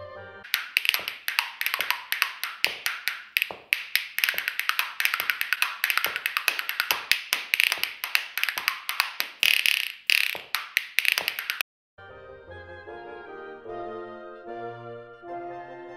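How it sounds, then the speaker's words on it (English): Spoons played as a percussion instrument rattle in fast, crisp clicking rhythms for about eleven seconds, then stop abruptly and give way to a short melodic tonal passage. "spoons."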